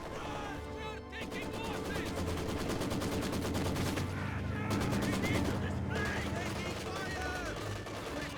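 Rapid MG34 machine gun bursts from the video game Company of Heroes 2, dense repeated rattling shots in several long volleys mixed with other battle noise and a commentator talking over it.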